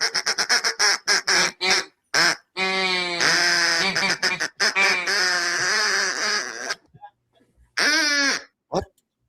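A human voice imitates ducks with a rapid run of nasal, honking quack calls in short bursts, some stretched longer, with brief pauses between and a few final quacks at the end.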